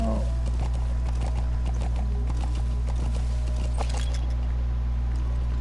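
Horse hooves clop faintly in a quick, light patter within the Metal Gear Solid V game, sitting under a loud, steady low hum.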